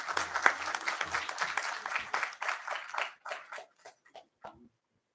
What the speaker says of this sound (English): Can I have a big round of applause, guys?